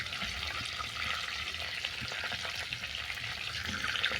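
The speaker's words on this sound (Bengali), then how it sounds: "এই তেলের মধ্যে দিয়ে দিলাম কালো জিরে দিলাম গোটা গরম মশলা" Black cumin and whole garam masala fry in hot oil, producing a continuous, close, crackling sizzle with faint stirring, steady throughout with no talk.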